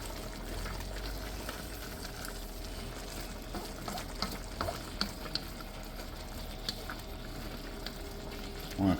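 Mongolian beef is stirred in a hot pan, giving soft, steady sizzling and frying with occasional scraping and clinks of a utensil against the pan, fairly quiet and continuous.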